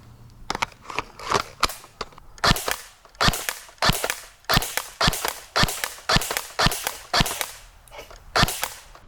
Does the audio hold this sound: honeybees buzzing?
no